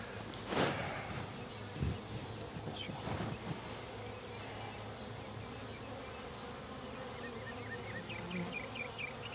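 A honeybee swarm buzzes steadily around a hive box, a dense close drone with individual bees passing near, while a voice speaks faintly underneath.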